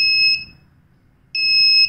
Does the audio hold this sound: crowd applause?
no